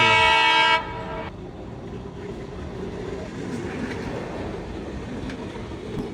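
A passenger train in India sounds a loud, sustained horn blast, then keeps rumbling along with a steady rolling clatter of wheels on track.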